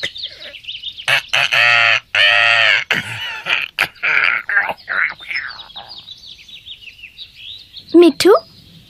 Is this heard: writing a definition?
no